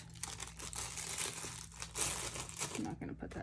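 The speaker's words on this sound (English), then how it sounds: "plastic crinkling time." Plastic packaging crinkles and rustles in bursts while earrings bought at a Las Vegas gem show are unboxed up close, with brief pauses between handfuls and a little background noise.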